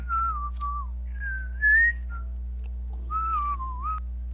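A person whistles a wavering melodic tune in several separate phrases with short gaps between them, clear and close over a low steady hum.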